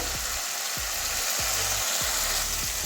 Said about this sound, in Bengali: কষিয়ে নিচ্ছি এই যে মশলা থেকে তেল ছেড়ে দিয়েছে আরও একটু কষাবো